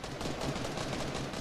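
Dense rapid gunfire from the Fortnite video game, a continuous burst of shots at moderate level without speech.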